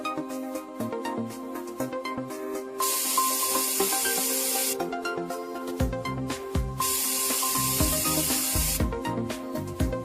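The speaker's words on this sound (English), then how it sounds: "Firstly, conduct a spray test pattern." A spray gun spraying adhesive hisses in two sustained bursts, each lasting a couple of seconds, with quieter mechanical handling sounds and clicks between them, close by.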